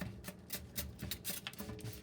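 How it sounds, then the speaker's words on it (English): A spray bottle misting a wet paper towel folded over seeds, a quick series of about eight short, close, hissing spritzes in steady rhythm, with no talk. "And I'm going to mist the top of it."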